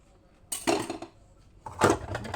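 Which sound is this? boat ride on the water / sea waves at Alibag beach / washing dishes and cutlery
washing dishes and cutlery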